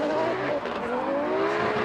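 Drift car at Fuji Speedway powering through a corner on throttle, engine note rising steadily and loud throughout with a faint tyre squeal underneath.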